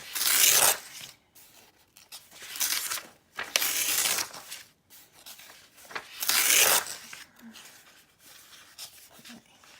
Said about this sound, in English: I'm going to start ripping out again.